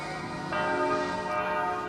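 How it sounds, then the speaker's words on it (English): Church bells in Jerusalem ring with a rich, sustained tone from a moderate distance, their overlapping strikes swelling partway through and hanging on without any voices. "They're the church bells now."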